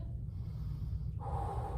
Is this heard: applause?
no